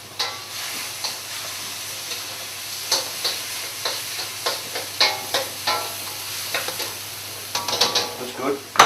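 Chicken chow mein noodles sizzling in a wok while being stirred, a constant frying hiss broken by repeated scraping and tossing strokes at a fairly even rhythm, close and clear.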